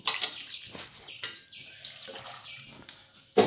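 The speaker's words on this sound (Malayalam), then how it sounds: "അതിലേക്ക് നമ്മുടെ അളവ് കപ്പിന് രണ്ട് കപ്പ് വെള്ളം കൂടി ഒഴിച്ച് കൊടുക്കുകയാണ്." Water pours from a cup into a pot of ash gourd curry, a faint splashing trickle with a few brief clinks, quiet and close with no speech.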